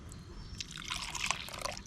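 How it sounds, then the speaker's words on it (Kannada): A small amount of water trickles and drips into thick dosa batter, faint and close, with soft liquid splashing for a couple of seconds. "ಇದಿಷ್ಟು ನೀರು ಹಾಕ್ಕೊಳ್ತೀವಿ."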